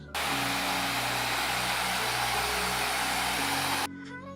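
An electric shaver buzzes loudly and continuously for nearly four seconds while clipping hair during a fade haircut, a steady close-up drone with a humming tone underneath, cutting off abruptly at the end.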